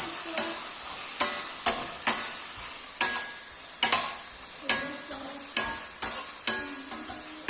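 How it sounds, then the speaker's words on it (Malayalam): Stirring macaroni and chicken with ginger-garlic paste in a pan: regular scraping spoon strokes against the metal, roughly one per second, over a steady close sizzle, with no talking. "എന്നിട്ട് നന്നായിട്ടൊന്ന് മിക്സ് ചെയ്യുക"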